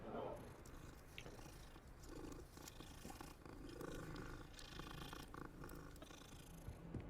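A cat in the Hogwarts Legacy video game purrs as it is petted, a steady low rumbling purr that runs continuously under layered game ambience and music.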